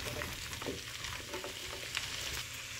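Cauliflower and potato pieces sizzle and crackle in a hot pan while being stirred, with scraping and clinking of the spoon against the metal, fairly close and without talk.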